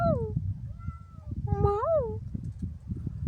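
A cat on a lead outdoors in spring meows a few times, short rising and falling cries close by, alongside a person talking.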